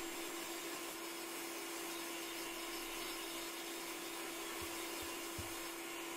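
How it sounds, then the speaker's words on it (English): An old vacuum cleaner runs in a workshop, sucking up dust around a farrier's rasp being made into a cleaver, giving a steady droning hum with a constant whine and occasional faint knocks. "I've got my old vacuum out, see if that will take some of it out of the way."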